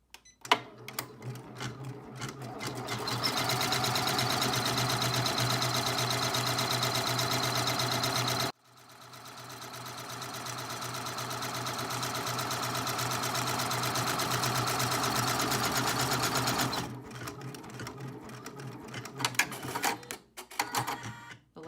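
An embroidery machine triple stitches around the full outline of a bracelet, tacking the front to the backing. It gives a steady, close, rapid mechanical whir that stops briefly partway through, then resumes and ends with a few uneven clicks.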